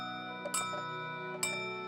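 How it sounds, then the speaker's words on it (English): A cartoon clock chimes twice in slow succession, each bright struck tone ringing over a steady sustained hum. "Oh, it's chiming now."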